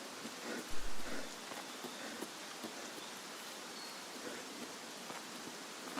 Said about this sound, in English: Digging this rain too,